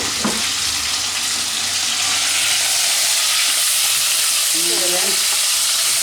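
Onions fry in hot oil in a pan with a loud, steady sizzle, and a few stirring scrapes and utensil knocks sound over it.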